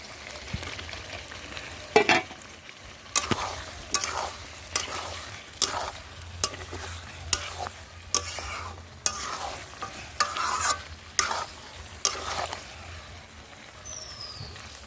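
Chicken kosha with fried potatoes being stir-fried in a pan: a spatula scrapes and stirs in regular strokes over a low, steady sizzle of oil, close and fairly loud, with no talking.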